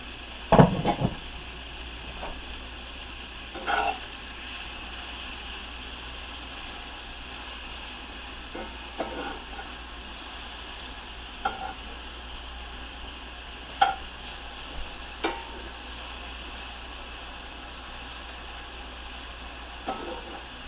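Sirloin steak pieces for fajitas sizzle in a little olive oil in a pan, a steady frying hiss broken by occasional scraping stirs and clacks of a utensil.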